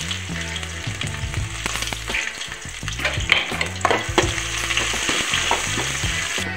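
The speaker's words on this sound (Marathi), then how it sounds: "माझं तेल गरम झालेलं आहे व इथे मी 1 चम्मच जिरा टाकत आहे आणि कांदा सुद्धा टाकत आहे" Cumin seeds and onion hit hot oil in a pan and fry with a loud, steady crackling sizzle, while a spoon stirs and scrapes continuously throughout.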